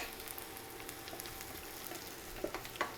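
Seasoned stew meat and peppers sizzle and fry in a pot for a Sri Lankan beef curry, a soft continuous crackle with a couple of light stirring knocks near the end.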